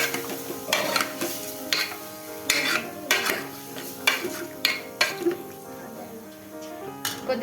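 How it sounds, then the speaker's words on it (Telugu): Mutton being stirred with turmeric in a metal pot, with repeated scraping and clanking strokes of a spoon against the pot in an irregular rhythm, close and fairly loud. "పసుపు వేసుకొని ఒకసారి బాగా కలిపేసుకోవాలి"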